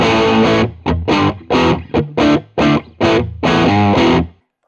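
Teruya Old Soul electric guitar on its single coil middle pickup position, played through distortion in a series of loud chords and bursts with short gaps between them, alone and up close.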